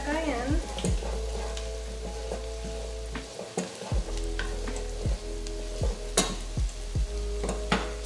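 A spoon scrapes and knocks around a soup pot as tomato paste is mixed in, with a steady sizzle underneath and sharp clinks every second or so.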